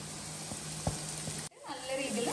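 Onions fry with ginger, garlic and chilli paste in a pan, a soft steady sizzle broken by a few stirring knocks, then a brighter burst of frying as the paste goes in.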